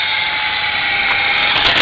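Syma S033G toy helicopter rotor whirring steadily as it trims bushes, a continuous high buzz that stays close and loud for under two seconds.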